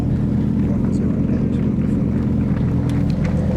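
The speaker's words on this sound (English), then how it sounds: "sometimes the Jaguars can struggle because of that rev limiter kicking in" A Jaguar F-type at a supercar weekend burnout event, its engine droning at high revs with a steady, loud, buzzing tone against the rev limiter, a voice talking over it.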